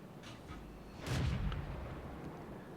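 A tank gun fires at a German tank destroyer in the World of Tanks video game, giving one heavy boom with a short rumbling tail amid quiet background noise.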